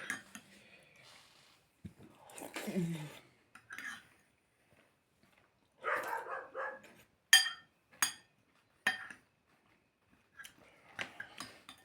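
Neighbours' dogs barking outside beneath the windows: short, scattered barks come in bursts, some nearer and some farther off, alongside occasional clinking of dishes or cutlery indoors.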